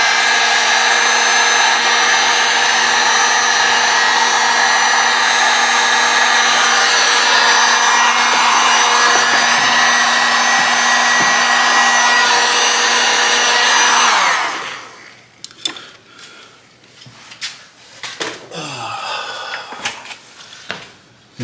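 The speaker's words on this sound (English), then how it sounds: "I'm gonna Gonna heat shrink this wire down." A heat gun shrinks heat-shrink tubing on a repaired coolant-level sensor wire of a 2016 BMW 428i, a loud steady blowing roar with a motor whine that stops sharply, followed by quiet handling clicks and rustles.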